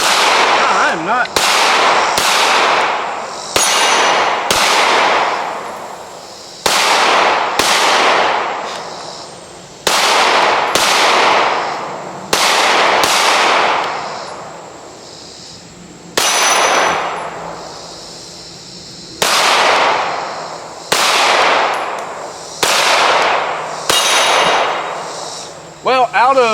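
Springfield Armory Echelon pistol firing at a Texas Star steel plate target: sharp, loud shots in an irregular string of about twenty, each followed by a ringing metallic clang from the steel plates, outdoors at the range.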